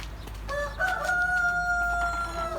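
A rooster crows once, a long drawn-out call with a rising then sustained tone, fairly close and clear over faint background noise.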